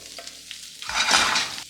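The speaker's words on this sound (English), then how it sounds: "I want a good saute on the veggies." Chopped garlic and scallion hit hot oil in a pan, giving a short burst of close, bright sizzling with stirring that swells and fades within about two seconds, no voices.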